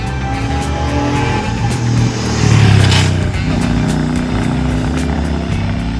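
Royal Enfield Shotgun 650 motorcycle ridden hard through corners, its engine a steady close drone with wind rush that swells briefly to a louder surge midway.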